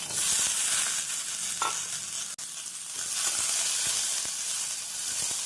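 Chopped chayote sizzles and crackles in a hot pan with chana dal, a steady frying hiss with occasional stirring scrapes and a sharp click.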